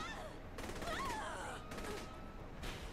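Bursts of rapid submachine gun fire in a video game, several rattling volleys separated by brief pauses, fairly close, mixed with grunts and other game noise.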